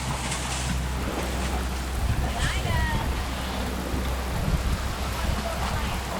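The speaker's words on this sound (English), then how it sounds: "The wind's picked up and it's no longer calm and peaceful." Steady wind and rain roar around a sailing boat caught in a storm near the Camilla Islands, a dense, constant wash of noise with a low rumble underneath and a voice talking over it.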